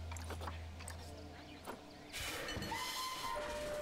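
Train in the zoo-building video game Planet Zoo rolls along with a steady rumbling hiss, then a brighter clattering rush and a thin whistle-like tone toward the end, fairly faint overall.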